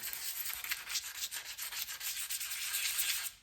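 Sandpaper rubbing oil across an iron surface, a steady raspy scrubbing with repeated back-and-forth strokes, close and continuous with no talk.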